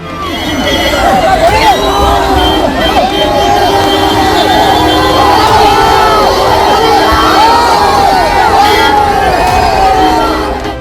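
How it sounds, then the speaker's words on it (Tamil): A large crowd of fans cheers, shouts and whoops around a car in a village, a dense, loud and continuous roar with children's shouts and chatter mixed in throughout. "ரசிகர்கள் ஆரவாரம் செய்தனர்"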